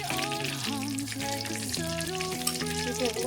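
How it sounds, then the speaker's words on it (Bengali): Banana and wheat flour pithas fry in hot ghee in a kadai, giving a steady, close sizzle that runs throughout beneath melodic background music. "পিঠেগুলো ভাজার জন্য"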